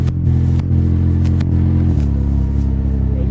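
A 2021 Can-Am Ryker Rally fitted with a Treal Performance exhaust idles loudly up close with a deep, rumbling engine note, rising into a few short revs with a brief shift in tone partway through.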